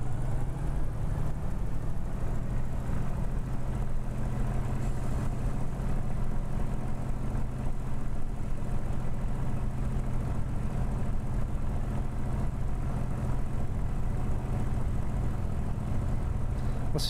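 A Spitfire's piston engine in Microsoft Flight Simulator holds a steady, loud, low rumble with a strong drone throughout, as it would when throttle is being added.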